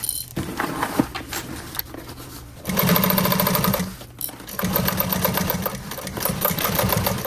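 A sewing machine stitches a pool tote bag in several rapid, buzzing bursts of near, loud stitching, separated by brief pauses while the fabric is repositioned.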